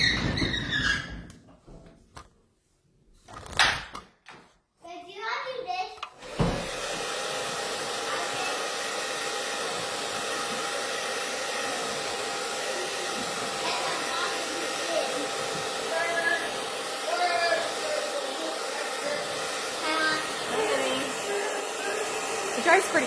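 After some brief shuffling and handling noises, a hair dryer switches on and runs steadily with a loud, even whooshing roar for most of the clip, its pitch wavering slightly as it is moved.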